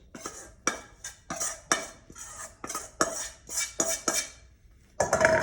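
Mashed potatoes and grilled corn are stirred in a pot, with a run of rhythmic clanks and scrapes from a utensil striking the pot's sides, close and fairly loud, and no talk.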